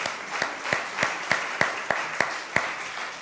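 A Spanish-speaking church congregation in London claps in unison, about ten sharp, evenly spaced beats over a soft background wash of scattered clapping.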